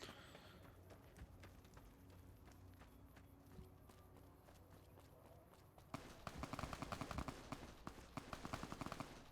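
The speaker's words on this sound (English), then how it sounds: "I'm just gonna ignore the gunshots that are happening in the background" Background gunfire in Fallout New Vegas, faint scattered shots and footsteps at first, then a denser stretch of rapid, louder bursts in the last few seconds.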